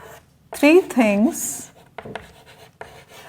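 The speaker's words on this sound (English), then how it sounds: "I am going to write over here 3 things" A teacher writes on the board during an English class: a short vocal sound comes first, then faint scratchy strokes in short, uneven bursts.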